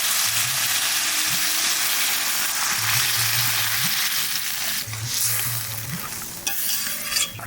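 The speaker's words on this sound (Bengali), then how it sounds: "এবার জল দিয়ে দেবো" Water goes into a pan of fried cumin and sets off a loud, continuous hiss and sizzle, with faint stirring underneath and a sharp burst of crackle toward the end.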